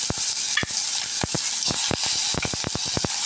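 Curry leaves and garlic dropped into hot oil, a loud continuous sizzle broken by sharp crackling pops and spoon stirs at close range.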